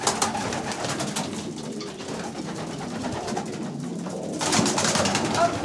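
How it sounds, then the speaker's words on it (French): Pigeons, including a year-old pigeon, cooing nearby in soft, repeated throaty calls, with faint murmuring and rustling in the background. "Là-bas, c'est un pigeon d'un an."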